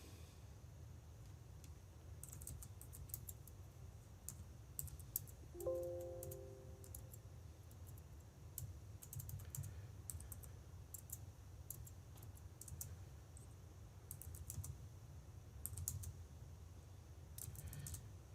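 Keystrokes on a computer keyboard in a lecture setting, scattered clusters of quiet clicking taps spread across the whole stretch over a low room hum, with no one talking.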